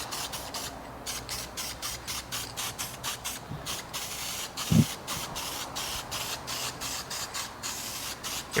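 An aerosol can sprays black paint in short, repeated hissing bursts, close and quiet, with a faint knock partway through and no talking.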